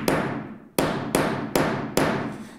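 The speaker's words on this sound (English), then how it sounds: "Give it a good hammer" Five loud, evenly spaced hammer blows drive a screw punch to set a metal snap fastener, each a sharp close metallic strike that rings out briefly before the next; no voices.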